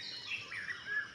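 Birds chirp and sing in the early morning near Maraiyur, Mayiladuthurai, a continuous overlapping chorus of high calls at moderate distance with no voices.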